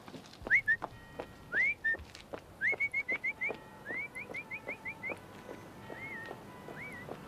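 A person whistles a series of short, bright phrases, with quick repeated chirpy notes in a rhythmic pattern, fairly close and alone.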